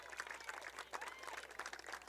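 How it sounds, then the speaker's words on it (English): Fans cheer and applaud as seniors take the field at a high school senior night baseball game, a steady wash of distant crowd noise with scattered claps throughout. "All the seniors coming out to a loud ovation."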